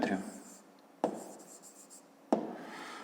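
Pen or pencil writing out a fifth-grade geometry solution by hand, three bursts of scratchy strokes each starting sharply and fading, close and fairly quiet.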